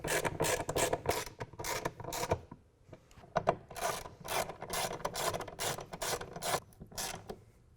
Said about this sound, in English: To tighten these bolts back down, we're going to use a ratchet rather than the impact driver